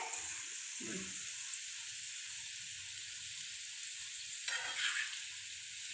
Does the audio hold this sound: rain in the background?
no